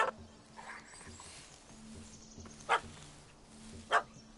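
A dog barking at a cat in the Witcher 3 game, two short sharp barks standing out over a low ambient game background, fairly close.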